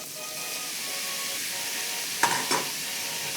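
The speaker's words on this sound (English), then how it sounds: "And then we're going to add our tofu" Tofu dropped into a generously oiled pan gives a steady close sizzle, broken by a couple of short clattering stirs near the end.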